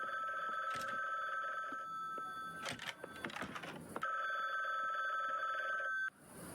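A telephone rings in two long electronic trilling bursts, close and clear, separated by a pause filled with faint rustling and knocks.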